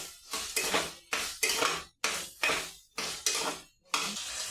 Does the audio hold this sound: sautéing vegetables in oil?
yes